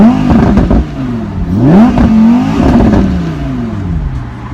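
2017 Lamborghini Huracan Spyder LP610-4 engine revving up close, several rising and falling revs in quick succession with a loud, high-pitched howl.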